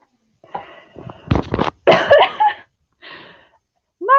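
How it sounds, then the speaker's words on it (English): Several harsh, close coughs in bursts with brief pauses, ending with another cough starting up. "I cough when I laugh still."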